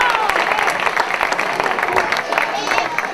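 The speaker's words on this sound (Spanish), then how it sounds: "un aplaudiment per ell també" Audience at an end-of-season party for a local football club applauding, steady dense clapping from a crowd close by, with some voices mixed in throughout.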